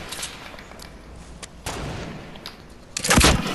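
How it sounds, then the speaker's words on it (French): A big rocket fired in a video game, heard as several sharp thuds and bursts, ending in a loud, heavy blast. "tire le gros roquette"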